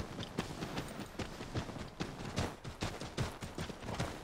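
Horse hooves clip-clopping at a steady riding pace through a town street in Assassin's Creed 3, a busy run of dull thuds with brief sharper knocks, fairly close and continuous without talk.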